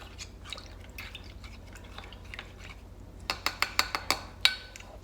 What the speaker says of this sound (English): Just gonna stir that into the water here.